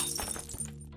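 A glass pane shatters in the Huntsman video game, a brief bright burst of breaking and tinkling shards over a low steady hum, fading quickly.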